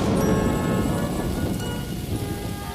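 Cartoon rain falls heavily with a deep rumble of thunder, a loud, dense downpour that is strongest at the start and eases slightly but stays steady, with no voices.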